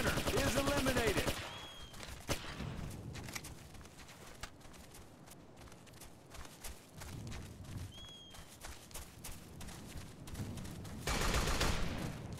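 Bursts of rifle and machine-gun fire in the military shooter Operation Flashpoint: Dragon Rising, heaviest at the start and end, with scattered shots and a shouted voice in between over a noisy battlefield.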